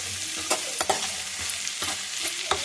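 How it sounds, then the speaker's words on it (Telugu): Mutton boti frying with tomato in a pan sizzles softly and steadily, punctuated by regular scraping stirs of a spoon every half second or so, with no talking. "బోటి కూడా ఒకసారి ఫ్రై చేస్తున్నారు అలాగా పక్క నుంచి"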